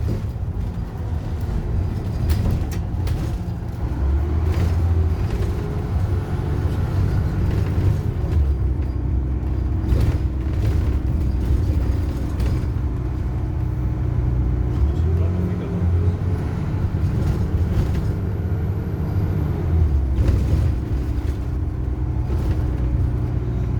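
A 1999 Alexander ALX400 double-decker bus with a Euro 2 engine running, a low steady rumble and drone throughout, heard from on board with faint talk in the background.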